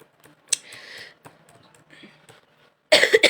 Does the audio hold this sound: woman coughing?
yes